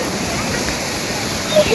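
Ocean waves wash steadily at Bantaian beach in North Aceh, a continuous broadband surf rush filling the whole clip, with a slight surge near the end and faint voices mixed in.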